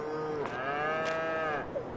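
A single long, low cow moo, fairly close and steady, fading at the end with a little background noise.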